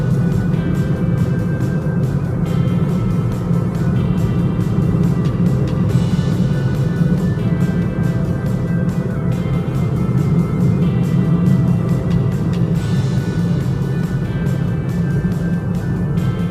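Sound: road traffic of cars and motorcycles

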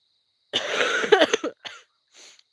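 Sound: coughing

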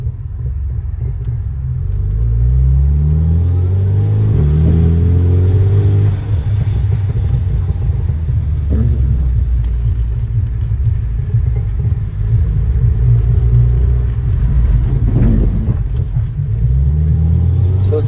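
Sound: car engine revving

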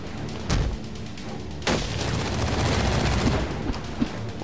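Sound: gunfire in the video game Batman: Arkham Origins

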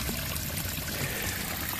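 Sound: garden pond water feature trickling over stacked stones

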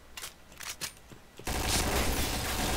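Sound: burst of gunfire in Point Blank video game

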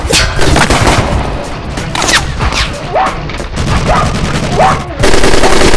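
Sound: gunshots in a film

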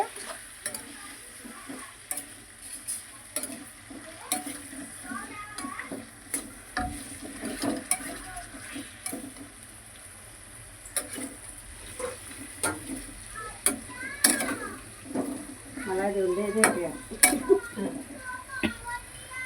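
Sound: stirring mango curry with salt in pan

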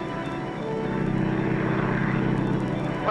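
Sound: propeller airplane flying in 1944 film

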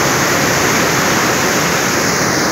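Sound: rushing water flowing

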